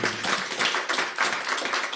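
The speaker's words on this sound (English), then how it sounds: "So a big round of applause to my staff" An audience at a school district board meeting applauds the school staff, a brief, dense wash of clapping that holds steady without a break.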